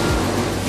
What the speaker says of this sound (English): mention the waves created by you and your competitors